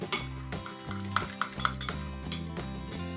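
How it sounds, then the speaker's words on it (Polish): Herring salad ingredients stirred together in a bowl: repeated clinks and scrapes of a utensil against the dish in an uneven rhythm, close and fairly loud, with no voices. "Mieszamy wszystko razem w misce."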